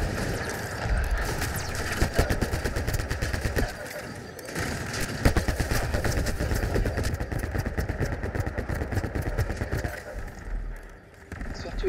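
Enemy gunfire in Mass Effect Andromeda, dense rapid bursts of shots rattling almost nonstop with brief gaps, mixed with game ambience.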